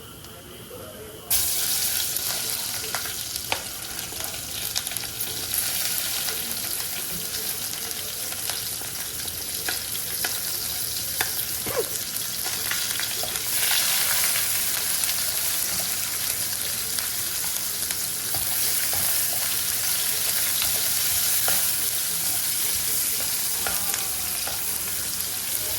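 Onions sizzle steadily in a hot pan, a loud continuous frying hiss that starts abruptly and holds for the full stretch with occasional stirring clinks and faint background voices.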